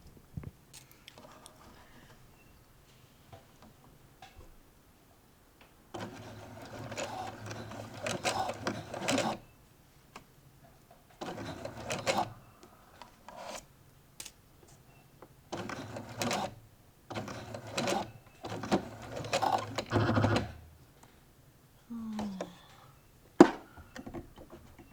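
A sewing machine stitches a garment seam in several distinct bursts of steady whirring, separated by short pauses and a few clicks, fairly close and clear.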